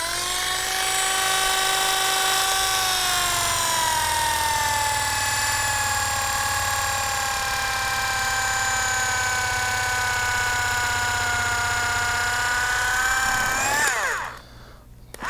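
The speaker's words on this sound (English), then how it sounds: "Let's get to the one-touch cordless knife." A one-touch cordless electric knife runs steadily through meat with a loud, sustained high motor whine. The whine holds evenly for about fourteen seconds, then drops in pitch and cuts off abruptly.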